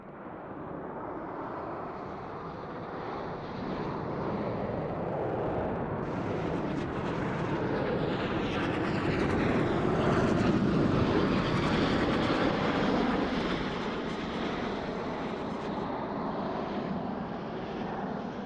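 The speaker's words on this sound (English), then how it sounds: "From behind the spectator area, virtual Roblox Blue Angels 5 and 6 are approaching the flight line in a line abreast formation at 400 miles per hour." Roblox Blue Angels jets 5 and 6 in line abreast formation approach at 400 miles per hour from behind the spectator area, a loud sustained engine roar that swells toward the middle and holds steady without speech.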